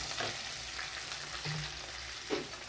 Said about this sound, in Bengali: পেঁয়াজ ভেজে নিলাম